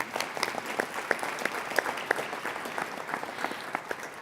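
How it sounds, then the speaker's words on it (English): A conference audience applauds as a speaker is welcomed to the stage, with a steady wash of many hands clapping at moderate volume and a few sharper claps standing out, with no talk over it. "yeah, we can clap"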